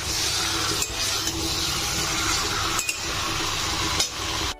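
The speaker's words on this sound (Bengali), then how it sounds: "তো দেখো এবার ভালোভাবে আরেকটু কষিয়ে নাড়িয়ে নেবো" Vegetables frying in spice masala are stirred in a pan, a steady sizzle running throughout, broken by a few brief scraping clinks of the spoon against the pan.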